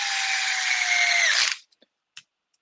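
A power drill drives small M3 screws into a rear clip. Its motor whines steadily at high pitch for about a second and a half, then stops sharply, followed by a few faint clicks and taps nearby.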